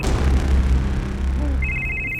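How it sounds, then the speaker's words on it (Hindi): A telephone starts ringing with a bright electronic trill partway through, entering after low background sound and continuing steadily until the end, fairly clear and close. "फोन आ रहा है, मैं बाद में आती हूँ सर।"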